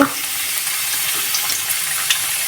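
Onion fries in a pan until light brown, a close, even crackling sizzle that stays steady throughout with faint stirring ticks.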